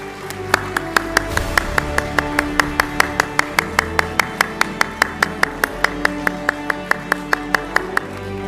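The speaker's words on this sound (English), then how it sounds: "Please keep the round of applause going." Applause at a hall of fame induction ceremony, sharp near handclaps in a steady even rhythm over a murmuring clapping audience, continuing through the whole stretch.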